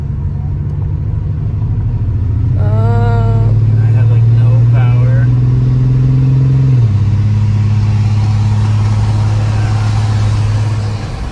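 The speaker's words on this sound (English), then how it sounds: "the car is running very, very rough" A BMW E92 335i engine runs very rough at a barely holding idle from a suspected misfire, a loud low uneven drone with a brief rise in pitch, while people talk over it.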